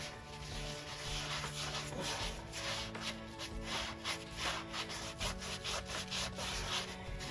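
Steady, vigorous scrubbing of a surface while testing a cleaning product, a continuous rough rubbing with rhythmic strokes, close and fairly loud, with a faint musical bed underneath.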